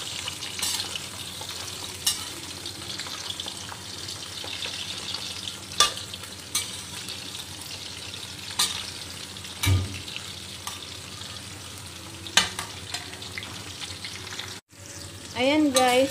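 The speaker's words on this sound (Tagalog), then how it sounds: "Piprito natin yung hipon." Prawns fry in hot cooking oil with a constant close sizzle, broken by occasional utensil clinks and stirring knocks, and a short metallic scrape near the end.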